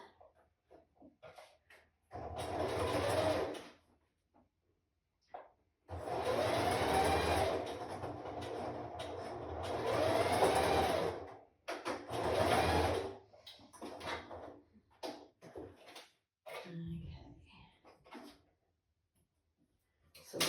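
Home sewing machine stitching a strapless bra's center seam, several separate bursts of stitching with pauses, then slower quieter ticks as the hand wheel is turned toward the pivot point.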